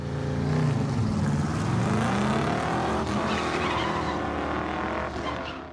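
A 1962 Pontiac Catalina Super Duty 421 V8 with a radical McKellar camshaft, 1.65 rocker arms and twin Carter 500 CFM carburetors roars loudly and steadily throughout, with shifting engine pitch and tire squeal suggesting hard driving.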